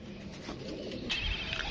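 Pigeons cooing on a rooftop, a soft low throaty coo repeating steadily through a faint outdoor background, fairly close and moderately quiet.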